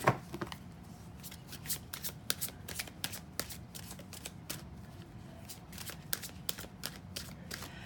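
A tarot card deck is shuffled during a reading, giving a steady run of crisp, rapid riffling flicks and soft slaps, close and fairly quiet, with no talk over it.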